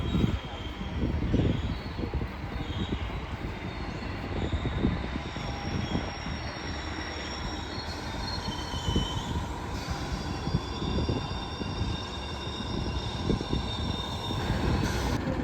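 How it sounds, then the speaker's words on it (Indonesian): A Supas commuter train from Pasuruan to Surabaya Kota pulls into a station with a steady rolling rumble, wheels clattering and high metallic squeals ringing over it, moderately loud throughout. "Ini ada kereta yang masuk teman-teman. Kereta api komuter lain Supas dari Pasuruan ke arah Surabaya Kota."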